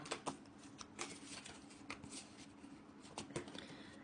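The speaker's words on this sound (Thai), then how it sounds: "เดี๋ยวเรามาเปิดไพ่กันเลยนะคะ" Tarot cards being shuffled and laid out at a table, with soft riffling and brisk flicks and taps of the cards. The sound is close but faint and comes in uneven bursts, with no talk.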